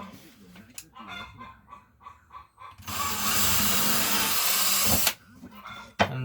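A power drill bores a pilot hole through thin wood for a small greenhouse frame, a loud continuous whir of about two seconds close by, with honking geese and a voice before and after.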